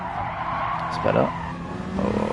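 Race car tyres skid and slide through a corner in a racing video game, a broad squealing hiss over steady engine drone, swelling briefly midway and again near the end, with someone talking over it.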